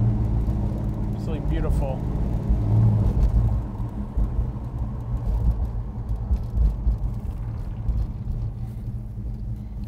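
A 1969 Dodge Super Bee cruising on the road, a low, steady engine and road rumble from inside the car with someone briefly speaking over it.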